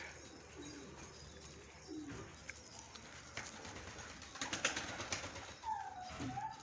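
Pigeons coo softly in a loft, several low throaty calls rising and falling over a quiet background with faint rustling, no one talking.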